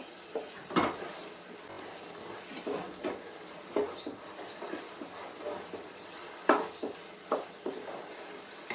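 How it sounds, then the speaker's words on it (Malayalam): Rice stirred and fried in a pan: repeated scrapes and clinks of a utensil against metal at an uneven pace, with a faint sizzle underneath. "നമുക്ക് അരി നന്നായി വറുത്തെടുക്കാം"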